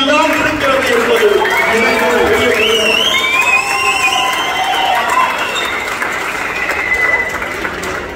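An audience at the launch event for the film Miller in Jaffna breaks into sustained applause and cheering, a dense wash of clapping that runs throughout while a voice speaks over it.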